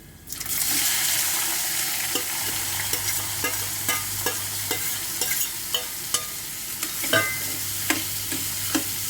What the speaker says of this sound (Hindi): अब जीरा लाल हो चुका, मैं डाल देती हूँ प्याज